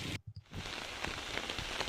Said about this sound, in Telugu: వర్షం ఇంకా పడుతూనే ఉంది